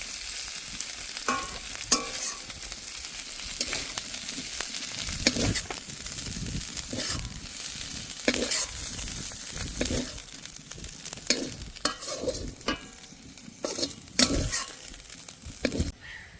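Prawns fry lightly in a pan for a Bengali malaikari, a soft continuous sizzle broken by repeated scraping stirs of a spatula against the metal, close and fairly quiet.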